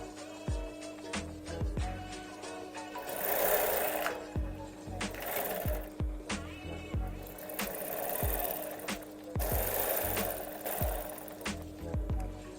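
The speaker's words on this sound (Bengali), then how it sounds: "এখন আমরা ক্রস পয়েন্টে এসে পয়েন্ট দুটি একত্রে মিল করে সেলাই করব।" An industrial sewing machine stitches a garment's arm seam, running in repeated bursts of rapid whirring with short pauses between, steady and close throughout.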